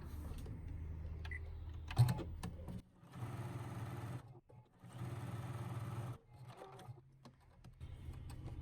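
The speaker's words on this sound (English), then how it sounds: "And then just stitch again using your 1/4 inch seam allowance." A sewing machine runs in two bursts of rapid, even stitching along a quarter-inch seam on a quilt block, close by, with brief handling noises and pauses between runs and no speech.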